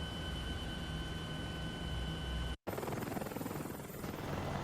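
A helicopter in Ace Combat: Assault Horizon drones with a steady rotor roar and whine, broken by a brief dropout before the engine noise resumes, no talk.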